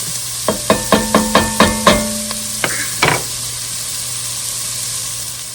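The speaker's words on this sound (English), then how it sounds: "we are going to let that cook for about 4 to 5 minutes until it starts to soften, become transparent, and get a little bit of browning on it." Onions cook in a pan under a low steady sizzle, opened by a quick run of about eight sharp, evenly spaced utensil taps and scrapes against the pan, then settling into a quiet hiss.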